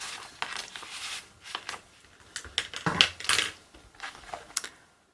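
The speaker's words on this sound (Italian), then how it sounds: "andiamo a inserire la copertina che abbiamo fatto all'interno della tasca" Handmade cardboard cover slid into a plastic stencil pocket makes crisp crinkling and scraping rustles with several sharp clicks and taps, quiet and close, coming in short irregular bursts before fading to silence.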